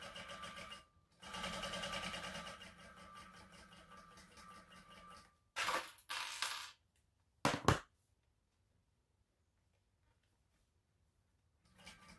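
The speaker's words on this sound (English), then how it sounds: "We top stitch all the way up this side, get as close to your rectangle ring, go across and back down this side." A sewing machine top-stitches a crossbody bag near a rectangle ring, running in two longer bursts, then a few short stitching spurts, followed by quiet.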